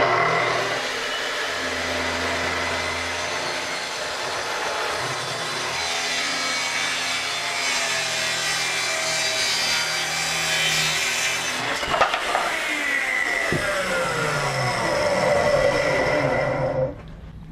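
Festool TS55 track saw cutting a sheet of 9/16 spruce plywood, a steady loud whine of blade biting wood running about twelve seconds, then a brief clatter and the motor spinning on before stopping, no voices.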